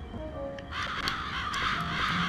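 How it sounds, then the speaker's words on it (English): Crows caw repeatedly in the Psychonauts video game, several harsh calls overlapping at moderate loudness over a steady game ambience, with no talking. "Aha, crows!"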